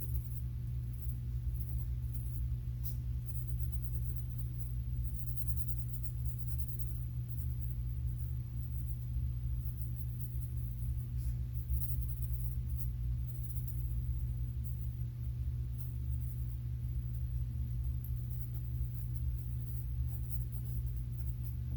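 Pencil or pen drawing squiggly lines in a sketchbook during a self-portrait, a soft continuous scratching of tip on paper over a steady low background hum, with no talking.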